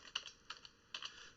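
A few quick, faint keystrokes on a computer keyboard while entering an Excel formula, soft clicks in small clusters over a quiet background.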